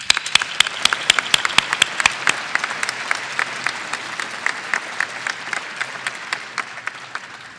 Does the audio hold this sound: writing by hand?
no